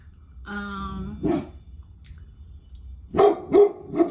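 Dog barking at someone walking down the street, a few sharp barks: one single bark, then a quick burst of three near the end, close and loud amid quiet pauses.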